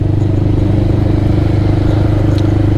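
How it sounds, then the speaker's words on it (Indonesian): A 250cc single-cylinder touring motorcycle idles nearby with a steady, close, throbbing engine note and a light mechanical clatter. No voices are heard. "Motor ini tuh sudah dibekali dengan mesin 250 cc"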